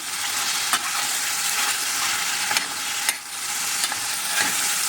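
Peppers sauté in a pan with a steady, fairly soft hiss and sizzle, punctuated by a few brief utensil scrapes and taps as they are stirred.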